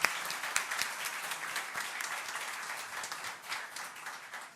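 Audience applause in a chamber plenary session, a dense, steady patter of many hands clapping together for the whole stretch, fairly even in level and heard without talk over it.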